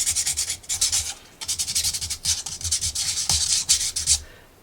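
Sandpaper rubbed back and forth over a hardened baking soda and super glue fill, a run of quick, close scraping strokes in steady rhythm with short pauses, loud and alone.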